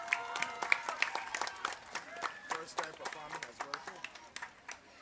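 Audience applause at the Mayor's Drum Strong Competition 2025 following a school performance, a steady patter of many hands clapping with irregular sharper claps throughout, under a faint musical tone.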